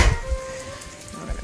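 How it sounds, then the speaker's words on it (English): Onions sizzle and caramelize in a hot pan, a steady close frying hiss with faint crackle and a soft thud or two of stirring. "our onions are caramelizing really, really good over here"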